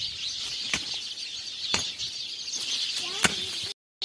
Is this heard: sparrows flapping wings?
yes